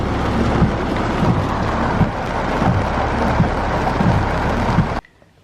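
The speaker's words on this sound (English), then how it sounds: "Look at the rain. It is coming down like" Heavy monsoon-like rain pouring down, a loud, dense, steady roar with some wind buffeting on the microphone, cutting off abruptly at the end.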